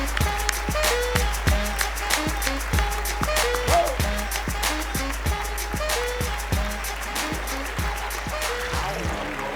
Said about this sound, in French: je vous demande de bien vouloir applaudir le duo de comiques, les Lascars Gays.